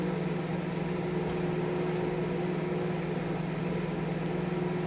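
A microwave oven in a college dorm hums steadily, a constant low electrical drone with no breaks, close and alone.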